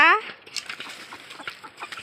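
A chicken gives a sharp call right at the start, followed by soft scattered clucks and shuffling nearby.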